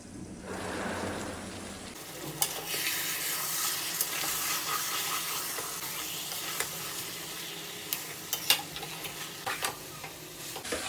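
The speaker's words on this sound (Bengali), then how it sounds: "চুলাটা অন করে দিই, ঢাকনাটা তুলে মাংসটা একটু নেড়ে দিই।" Chicken meat stirred in a hot pan after the lid comes off, a sustained sizzle with repeated scraping strokes and sharper clatters from the utensil, moderately loud and close, with no voices.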